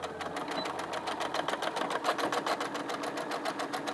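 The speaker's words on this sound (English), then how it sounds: "sewing machine, bring my foot down, and as it goes along" A sewing machine runs steadily as it stitches a fabric face mask, its rapid needle clatter close and continuous, with no talking over it.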